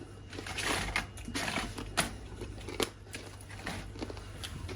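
Homemade crispbread being bitten and chewed close up, giving a series of soft, irregular crunchy cracks over a low background hum.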